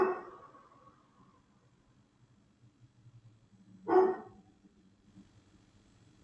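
A single sharp dog bark rings out indoors partway through, following a fading sound at the start, with quiet room tone around it and no talking.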